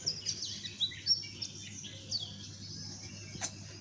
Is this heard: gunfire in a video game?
no